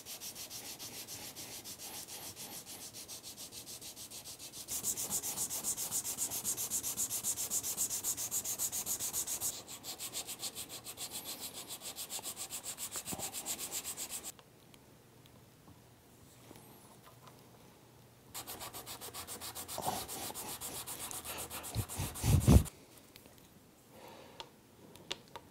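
Sanding a guitar nut by hand for a Telecaster build gives steady, close rubbing strokes in several bursts with short quiet pauses between them, and there is no talk.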